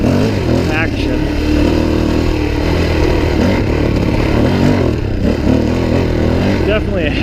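A Suzuki DRZ400e motorcycle engine drones loudly and continuously on a test ride, with wind buffeting and a few rising revs, while a rider talks over it.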